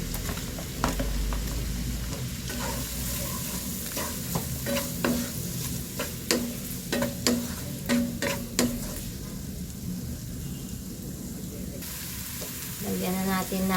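Garlic and white onion sizzle and fry in butter in a pan while a spoon stirs with steady scraping strokes, close and fairly loud throughout.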